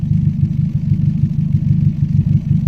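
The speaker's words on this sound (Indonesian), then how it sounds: "Nah, ini suara knalpotnya sudah lembut." A Daihatsu Gran Max engine idles with a low, steady, soft exhaust rumble, pulsing evenly and close by, with no voices.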